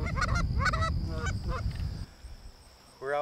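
Canada geese honking outdoors on a hunt, several loud nasal honks in quick clusters over the first two seconds, then a brief pause before another honk.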